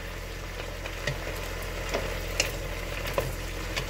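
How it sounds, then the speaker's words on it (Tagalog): Beans, mushroom, cauliflower and carrots stir-frying in a pan, giving a steady low sizzle with a few soft clinks and scrapes of stirring over about four seconds, with no talking. "Stir fry lang natin siya."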